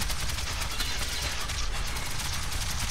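Rapid automatic gunfire from many shooters in Metro 2033 Redux, a dense, continuous crackle of bursts filling the whole stretch with no talk over it.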